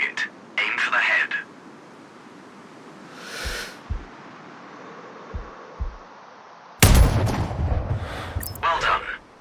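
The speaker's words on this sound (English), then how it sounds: "Now, shoot this target. Aim for the head." A sniper rifle shot in the video game Sniper Ghost Warrior Contracts, one loud, sharp blast with a ringing tail, set among short bursts of in-game voice and soft background sounds.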